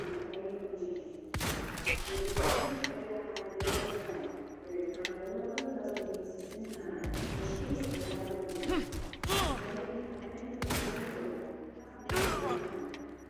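Bursts of gunfire from the video game Quantum Break crack out in several separate volleys between stretches of game ambience, with voices talking over the action.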